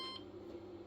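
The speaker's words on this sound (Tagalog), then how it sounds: "Wait for the beep." A Samsung Series 5 washing machine gives a single short electronic beep, faint and brief, over a low background hum.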